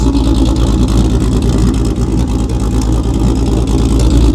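Turbocharged R36 hot hatch engine revving hard and loud up close, a dense continuous roar with crackling pops and bangs from the exhaust throughout.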